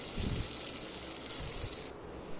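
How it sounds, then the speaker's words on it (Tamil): Onions and green chillies sauté in a hot pan with a steady, bright sizzle and hiss throughout, a few low stirring bumps underneath, the frying close and fairly loud. "வெங்காயம் நமக்கு ஓரளவுக்கு வதங்கி வந்தால் போதும்"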